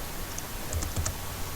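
Keystrokes from a computer keyboard as a search keyword is typed into a database, a handful of quick clicks spread across a short stretch over a low steady background hum, fairly quiet and without any talking.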